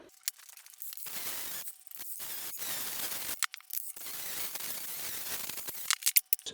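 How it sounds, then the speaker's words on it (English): A cutting tool slices through the muffler of a Ford lawn tractor in several bursts of harsh, bright, scraping noise, with brief pauses and a few sharp clinks between cuts; no one speaks. "So let's cut this muffler and see where we end up at."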